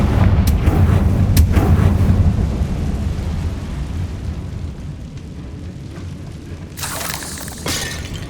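A Confringo spell explosion in the video game Hogwarts Legacy, a loud booming blast with rumbling debris that fades into lingering low crackle, followed by sharp shattering hits near the end.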